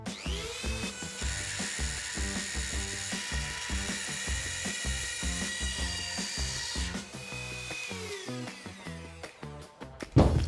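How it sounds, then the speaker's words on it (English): A Dremel rotary tool with a multi-purpose cutting kit running at 30,000 RPM cuts laminate flooring, giving a loud, continuous high-pitched whine with a rapid rattling chatter that dips and rises as the cut progresses, close up without talking. "I'm using the multi-purpose cutting kit instead of a jigsaw because it's quite small cuts and you have a lot more control and stability using the Dremel."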